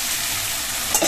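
Chopped tomatoes dropped into a hot frying pan with spinach chicken masala, giving a short steady sizzle with a brief stirring scrape at the end.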